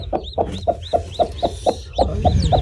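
A hen clucks repeatedly in a steady rhythm, close by, each short cluck followed by a brief high squawk, with faint background noise.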